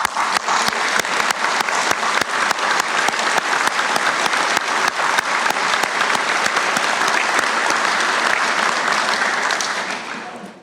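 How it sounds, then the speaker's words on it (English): Graduates at a university conferring ceremony give themselves a raucous round of applause: loud, dense, sustained clapping from a large crowd filling the hall for about ten seconds before fading out at the end. "put your hands together and give yourself a very raucous round of applause"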